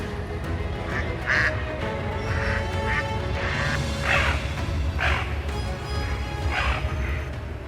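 A mother duck calls out with repeated loud quacks as a bird of prey attacks her ducklings, the calls coming in irregular bursts over a steady background rush.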